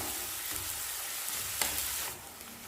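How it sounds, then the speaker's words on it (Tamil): Chopped onions sautéing in hot oil in a pan for paneer gravy, a steady close sizzle with faint stirring scrapes and a brief clink, quieter toward the end, no voices. "வெங்காயம் நல்லா வதங்கட்டும்."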